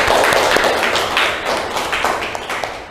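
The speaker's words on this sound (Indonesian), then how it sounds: "Tepuk tangan anak-anak." Schoolchildren in a classroom clap together in a quick rhythmic pattern, a burst of sharp overlapping claps that tapers off.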